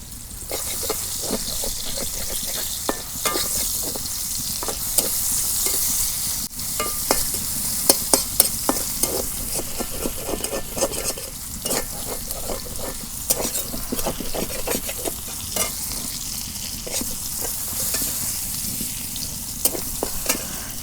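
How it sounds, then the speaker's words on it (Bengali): Chopped onion fries in oil with rupchanda fish in the pan, a dense crackling sizzle punctuated by repeated scraping and clinking as it is stirred, close and continuous. "এখন আমি পেঁয়াজ কুচি দিয়ে দিই।"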